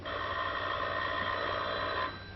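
A telephone rings steadily in a 1943 comedy-drama, one continuous bright electric bell lasting about two seconds before it cuts off, heard alone against a faint background.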